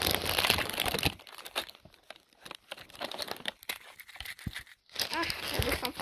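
Crinkly plastic wrappers on Halloween candy being torn open close by, in dense crackling bursts at the start and end with quieter rustles and small crunches between.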